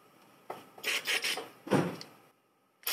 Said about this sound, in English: I need to clean off some of this caked on gunk off the throttle body